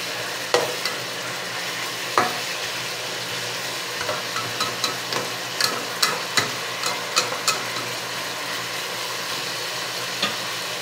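Beef tapa cooking in a pan, a low steady sizzle under a run of rhythmic spatula scrapes and clacks that come faster in the middle, close and clear, no one speaking.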